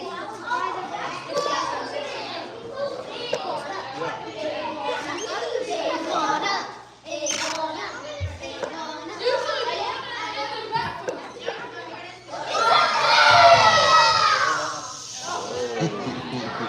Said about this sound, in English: when you scream at the top of your lungs, it scares me